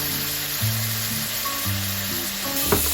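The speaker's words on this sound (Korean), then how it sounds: "이걸 된장이랑 간장을 한번 볶아야 돼요." Soybean paste and Japanese soy sauce sizzle and fry steadily in a hot pan, with a continuous crackle and no voices.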